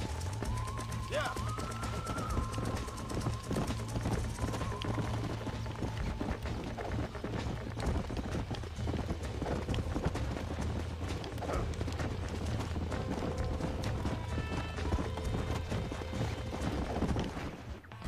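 Horse hooves clip-clop in a steady, rapid rhythm in the video game Red Dead Redemption, with a continuous run of galloping beats and ambient game sound over a low background hum.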